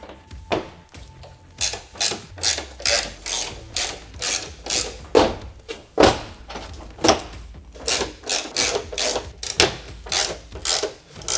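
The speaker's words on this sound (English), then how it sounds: "we're going to take our flathead screws. These have a little Allen head on them, and attach our sections together" A hand tool drives Allen-head flathead screws to join Holman rigid floor sections in a Ford Transit, giving close, repeated ratcheting clicks in bursts with short pauses and a steady working rhythm.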